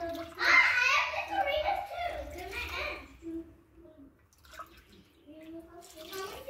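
Water pours in a steady, splashing stream onto Gobindobhog rice for vegetable pulao, close and fairly loud for about three seconds before stopping, followed by quiet voices talking.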